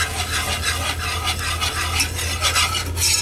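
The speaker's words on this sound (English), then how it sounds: "And then you want to start whisking this pretty quick." Flour being whisked into turkey gravy in a pan, a steady busy scraping and stirring that runs continuously and close with no pauses, over a low constant hum.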